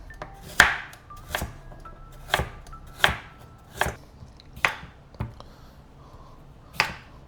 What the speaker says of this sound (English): Then we're gonna slice these.